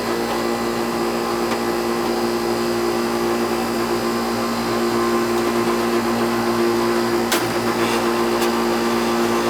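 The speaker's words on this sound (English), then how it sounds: "Hear the compressor in there? That's a Bristol. Noisy." An old Goodman R22 air conditioning condenser runs steadily with its Bristol compressor, a loud continuous mechanical hum and whir with a few brief clicks near the end, no voices.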